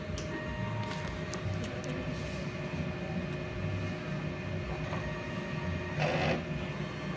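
A DTF printer runs its head clean cycle: a quiet, continuous mechanical hum with faint whirring and small clicks, plus a brief louder burst near the end.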